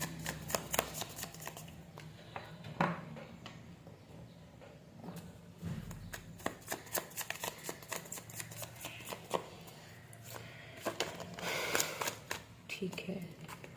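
Tarot cards are shuffled and drawn by hand, giving a series of crisp, close flicks and soft slaps with irregular rhythm and quiet pauses between bursts.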